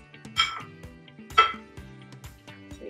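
Spices are crushed for tiep boudiem: two heavy, clinking knocks about a second apart, close and fairly loud, with lighter taps between them over a soft tonal background.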